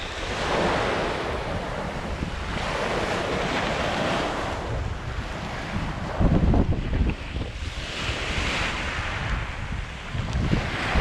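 Wind and choppy sea waves on a Çanakkale beach, with surf washing in repeatedly under steady gusts buffeting the microphone.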